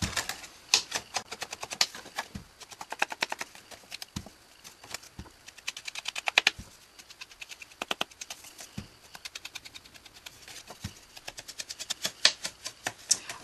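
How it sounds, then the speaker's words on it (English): A sponge dabber pats Bashful Blue ink along the paper edges of a handmade gift card holder, giving close, rapid, irregular soft taps with brief pauses and no talking. "I'm going to just sponge all the edges of this part of the gift card holder"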